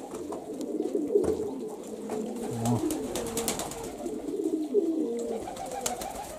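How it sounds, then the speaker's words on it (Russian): Pigeons coo steadily in a courtyard loft, layered soft throaty calls overlapping close by with faint background noise and no talk. "Вот наши голуби."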